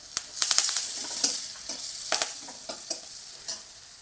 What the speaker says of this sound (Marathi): त्याच्यामध्ये आपण कढीपत्ता टाकूया